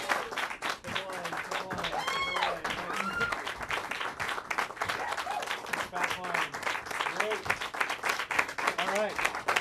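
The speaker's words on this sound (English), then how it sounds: "give a big warm round of applause for the Brody Theater players" An improv theater audience gives the Brody Theater players a sustained round of dense applause, with steady clapping throughout and voices and whoops mixed in.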